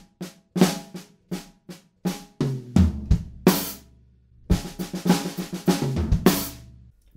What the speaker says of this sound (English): And then at the end of that section, we have a fill.